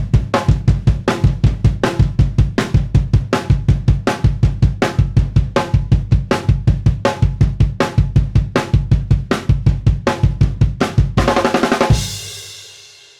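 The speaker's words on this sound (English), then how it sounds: "play all of the notes on the floor tom, except for the snare drum notes on the bass drum" A steady, fast drum groove of floor tom and bass drum hits with snare accents, played loud and even, ending on a ringing cymbal crash.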